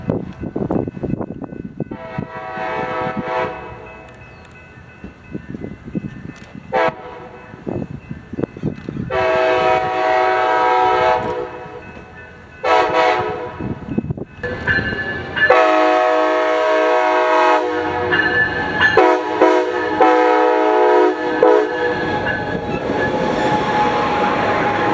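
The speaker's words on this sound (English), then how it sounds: "Our first train would be Coaster 679 with SC44 Charger 5005" At Carlsbad Village Station, Coaster commuter train 679 led by SC44 Charger locomotive 5005 approaches with a series of long, loud horn blasts and short toots, followed by the steady nearby roar of the locomotive passing.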